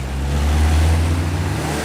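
A car in a Vadivelu comedy film scene, a steady engine rumble swelling slightly and fading over about two seconds as it drives past at moderate distance, with no talk.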